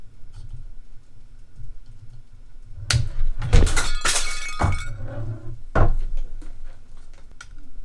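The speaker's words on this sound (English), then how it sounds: "Side cutters there. They're not even cutting the plastic." Side cutters cut into the plastic packaging around an Icon 1/2-inch breaker bar, giving a few loud, sharp crackling snaps and crunches close up in the middle of the clip, with no talk.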